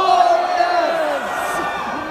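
At a WWE NXT wrestling match in Las Vegas, an arena crowd cheers and shouts loudly, a sustained roar of many voices with rising and falling whoops.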